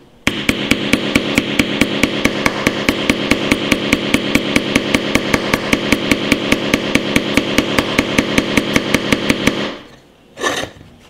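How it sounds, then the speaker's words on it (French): A Vkworld VK700X smartphone used as a hammer to drive a nail, giving a rapid, very even run of sharp close taps for about nine seconds before stopping, followed by one brief scrape. "Je continue à planter ce clou."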